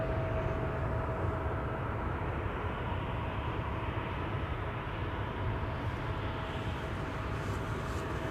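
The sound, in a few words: Boeing 737-800 airliner at Amsterdam Schiphol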